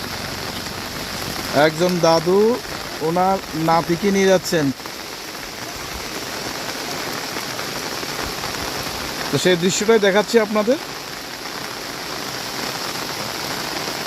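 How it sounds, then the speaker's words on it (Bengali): Steady rain falls over Belonia in Tripura, a constant hiss that runs the whole time, while someone talks in two short stretches over it. "বৃষ্টি হচ্ছে, এখনো থেমে থেমে বৃষ্টি হচ্ছে"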